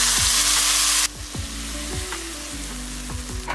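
Mustard seeds and urad dal fry in hot oil as tempering for an onion-tomato chutney. The sizzle is loud and steady, with close crackling pops, and it drops a little in level after the first second.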